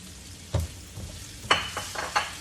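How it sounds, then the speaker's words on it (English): Ground beef with sweet and hot peppers stir-fried for basil beef: a soft sizzle with a few sharp scraping strokes of a spatula against the pan, close and moderately loud, no talking. "You stir fry for a while."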